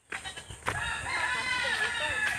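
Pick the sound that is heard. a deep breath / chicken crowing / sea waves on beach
chicken crowing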